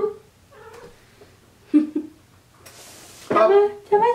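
A cat gives several short, close meows and caterwauling cries in a room, spaced irregularly, with a brief hiss of noise between calls.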